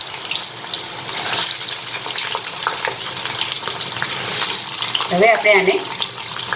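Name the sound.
french fries frying in hot oil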